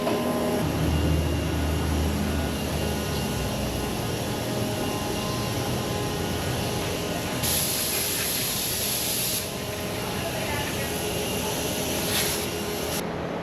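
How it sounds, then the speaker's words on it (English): FlexArmor coating sprayed across an RV roof, a steady loud airy hiss of the spray rig running continuously with a slight change in tone partway through, no talk. "All right, Reese, are we done spraying?"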